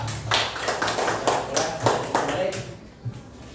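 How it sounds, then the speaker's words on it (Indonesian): Rapid hand clapping in a classroom, a run of sharp claps that quickly fades, mixed with voices in the room. "Saya tepuk tangan buat Sinan sama Rasya."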